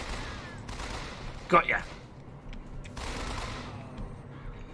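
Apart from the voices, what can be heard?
gunfire in the video game BioShock Infinite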